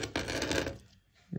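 Rough scratching passes over a hard Ipomoea leptophylla (bush morning glory) seed coat, done to scarify the seed before germination: a sustained close rasp, then a pause and a shorter final scrape, with no talking.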